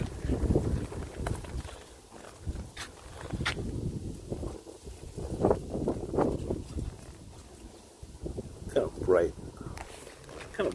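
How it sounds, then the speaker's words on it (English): Gusty outdoor wind buffets the microphone at night in a low, uneven rumble beneath someone talking throughout. "A little windy out here."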